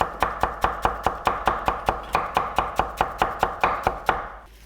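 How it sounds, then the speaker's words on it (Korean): A knife julienning pear for kimchi seasoning: a fast, even series of about twenty crisp chopping taps on a cutting board, close and clear, with no talking. "배도 이렇게 그냥 채 썰어 넣으세요."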